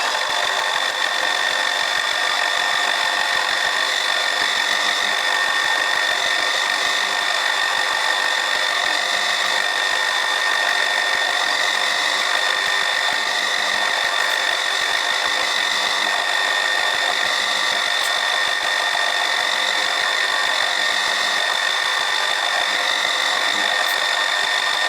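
A cutter machining an 8 mm-deep, 4 mm-wide slot in a steam valve for a Stuart 10V model steam engine, a steady, loud, continuous whine with high tonal ringing throughout, no talking.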